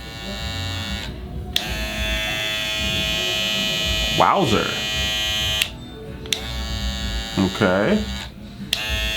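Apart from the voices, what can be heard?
Slimline Pro modded trimmer switched on and running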